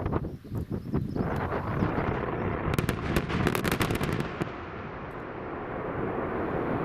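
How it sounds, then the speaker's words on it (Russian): Controlled blast breaking ore inside a gold mine, a muffled rumbling explosion with crackling bursts, loud and sustained for several seconds before fading into a lingering low roar. "Внутри происходит взрыв, разрушение"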